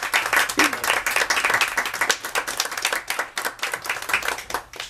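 Audience applause following a presentation on football and violence, a dense, steady wash of many hands clapping close by, sustained for several seconds with no talking over it.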